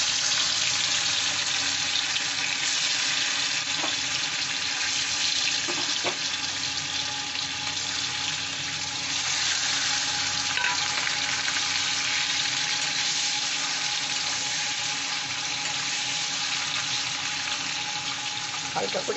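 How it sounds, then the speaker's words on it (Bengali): Paneer pieces frying in white oil in a wok produce a loud, dense, unbroken sizzle that holds steady for the whole stretch, close up with no talking. "এবার কড়াইতে আমি সাদা তেল দিয়ে দিয়েছি, এবার পনিরগুলো দিয়ে দেব, হালকা করে ভেজে তুলে নেব।"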